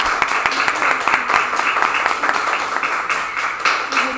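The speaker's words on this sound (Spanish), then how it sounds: "le damos un fuerte aplauso a Victoria por su dibujo." Applause for a child's drawing, a few seconds of brisk clapping from a small group, fairly close and steady throughout.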